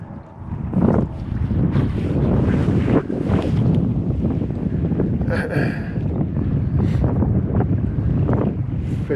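Strong wind buffets the microphone out on open water during a fishing trip, a loud steady roar of gusts with faint lapping water underneath and no talk.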